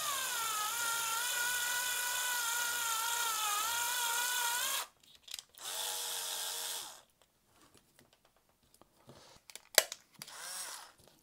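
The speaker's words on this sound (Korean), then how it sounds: "한번 구멍을 뚫어보도록 하죠. 네, 한번 구멍을 내보겠습니다." Drill boring a hole into an OWC Express 4M2 enclosure: a loud, steady whine for about five seconds, then short stop-start bursts of drilling with pauses and a sharp click near the end.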